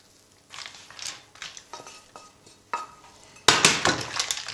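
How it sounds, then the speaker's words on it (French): A spoon scrapes and clinks in a pot as mussels are stirred together with a chorizo garnish for moules à la provençale; irregular metallic scrapes and clatters come in short bursts, getting louder toward the end, with no talking. "Je mélange bien l'ensemble."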